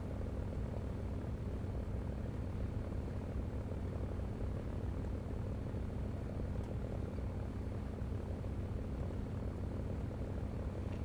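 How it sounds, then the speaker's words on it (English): A continuous droning Focke-Wulf Fw 190 fighter plane engine in the game War Thunder hums steadily throughout, an even propeller-like roar with no voices. "This engine sounds a lot smoother than the 109."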